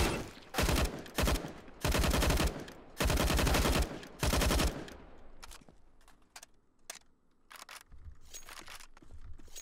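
CS:GO AUG rifle fire after a game update, several loud automatic bursts of varying length up front, then scattered single shots and clicks fading into quieter game ambience.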